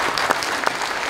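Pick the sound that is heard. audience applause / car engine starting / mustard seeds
audience applause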